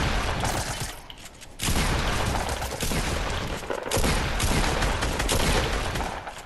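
Sustained, dense gunfire from a first-person shooter video game, with loud overlapping bursts and explosions that dip briefly twice before resuming, filling the whole stretch without talking.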